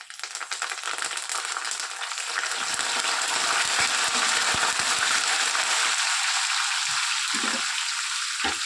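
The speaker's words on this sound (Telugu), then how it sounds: "గింజలు బాగా వేగిన తర్వాత ఒక 2 రెమ్మలు ఫ్రెష్ కరివేపాకును వేసేసుకోవాలి" Fresh curry leaves dropped into hot oil with toasted seeds, frying with a loud, steady crackling sizzle that swells after the first second and holds dense and close throughout, with a few soft clinks near the end.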